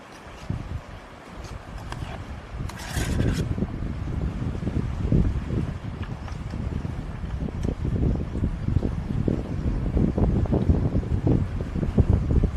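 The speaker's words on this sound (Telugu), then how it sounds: "గాలి బాగా ఉంది" Strong wind buffets the microphone in a continuous heavy roar, gusting and rumbling throughout, with a brief higher rushing burst early on.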